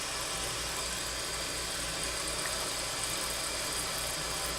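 Chicken stock simmering very low on the stove with very tiny bubbles, a steady soft hiss and faint bubbling that stays even and continuous throughout.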